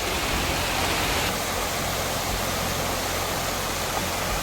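Munzur spring water gushing out at the foot of a mountain where a large river begins, a dense, constant rushing roar with no pauses, close and loud throughout.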